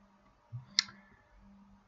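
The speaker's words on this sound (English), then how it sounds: "you can right click" A single sharp computer mouse right-click, short and close, in an otherwise quiet setting with a faint low hum and a soft thump just before it.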